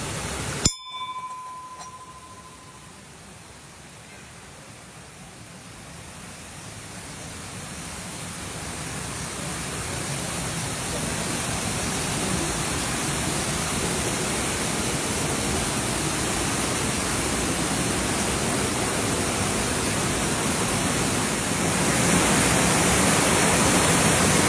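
The waterfall at Panchalingeswar rushes and roars as a steady, full hiss of falling water, growing a little louder toward the end after a sharp bell-like ding and brief quiet at the very start.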